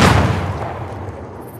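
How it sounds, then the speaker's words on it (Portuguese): A single loud, close video game explosion boom, played on a PlayStation 5, with a sharp onset that fades away over about a second and a half. "Tu ouviu o som da explosão, vida?"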